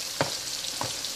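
Pork pieces frying in flour-thickened oil for Haitian griot give a soft continuous sizzle and hiss, broken by two brief spatters or stirring knocks, close and fairly quiet with no talking.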